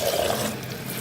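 Water splashing and running as ackee is rinsed in a bowl, a steady close wash of liquid for about a second with no talking.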